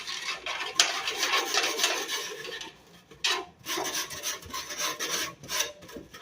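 A sanding block rasps back and forth along the edges of a homemade aquarium lid in repeated close scraping strokes, with a short pause midway before the strokes resume.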